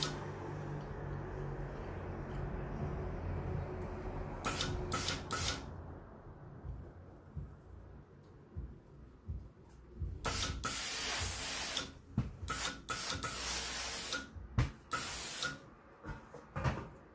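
A steam iron presses sewing fabric, with sharp hissing bursts of steam in short repeated puffs, loud and close, against a quiet background of soft handling.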